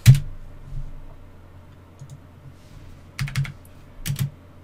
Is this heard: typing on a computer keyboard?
yes